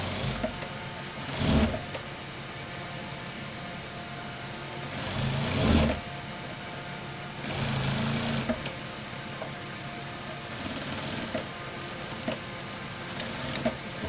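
Sewing machine stitching a formal pant leg, with short bursts of mechanical running and whirring that stop and start, over a steady background hum.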